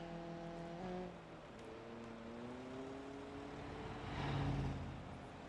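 A heavy T65 car hauler semi truck engine in a video game hums low and steady, its pitch shifting as it revs up and settles, swelling louder briefly near the end.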